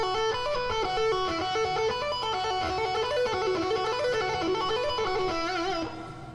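Guitar slowly picking through a full pentatonic scale position, single notes rising and falling at an even, unhurried pace, close and clear, then ringing out near the end with no talking.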